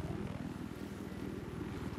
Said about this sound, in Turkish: Helikopter çıktı.